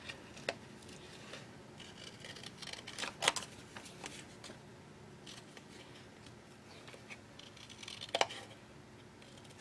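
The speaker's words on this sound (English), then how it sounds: "grab some scissors here and then cut that out on the line." Scissors snip at intervals through thin gold foil, sharp crisp cuts amid soft rustling and handling noise, with a couple of louder snips standing out.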